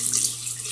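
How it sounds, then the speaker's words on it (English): Water runs steadily from a tap into a sink for a brief moment, a close, even hiss with no talk over it. "turn the water on"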